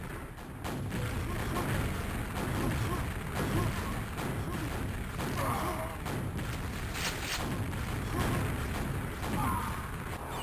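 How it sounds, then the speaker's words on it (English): Rocket explosions from the Quakeworld video game, a near-continuous barrage of booms, bursts and mechanical clatter running throughout at steady loudness, with no talk. "Nice rockets."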